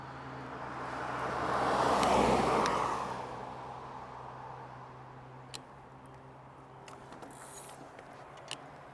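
A car approaching on a road heard from an e-bike, a broad whooshing roar that swells to a peak and fades, followed by quieter road hiss with a few faint ticks.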